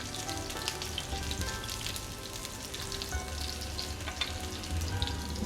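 Slices frying in hot oil until golden, for Singaporean rice, with chilies about to join them; a dense, steady sizzle and crackle runs evenly throughout, close and fairly loud, with no voices.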